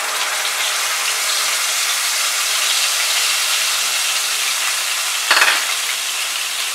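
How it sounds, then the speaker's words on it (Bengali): Poppy seed paste hitting hot mustard oil with nigella seeds, producing a loud, steady, close sizzling hiss that continues throughout, with one brief stirring scrape near the end. "পোস্ত বাটাটা দিয়ে দিলাম।"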